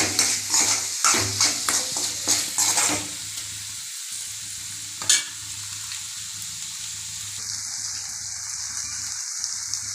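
Spices such as asafoetida powder are stirred into a sizzling pan while making a poori potato masala. A few crisp scraping stirs come first, then a steady, soft frying hiss goes on close by.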